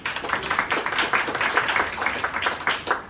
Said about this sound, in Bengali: আমরা ওনার জন্য একটা হাততালি দেব